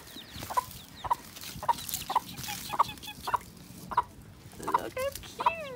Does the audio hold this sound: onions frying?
no